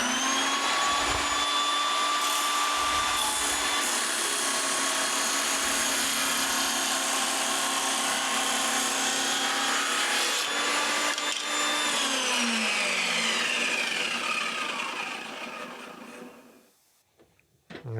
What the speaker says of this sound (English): turn on the saw, push through slowly and gently, it's not a race, let the blade do the work